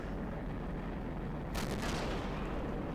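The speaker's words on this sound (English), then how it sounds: "Fires another deflection from the Jagdtiger" A Jagdtiger tank destroyer firing its main gun at an A39 Tortoise in the strategy game Men of War, a single booming shot bursting out over a steady low rumble of battle ambience, with no voices.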